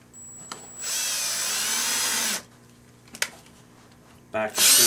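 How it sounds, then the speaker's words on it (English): Power drill driving a sharp-tipped screw to pre-drill for toe sliders, a loud whirring run of about a second and a half, a short click, then another burst of whirring at the end, close and clear. "we want to use the screw with the sharp tip on it for a pre-drill"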